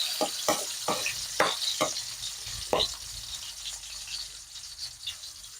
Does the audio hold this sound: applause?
no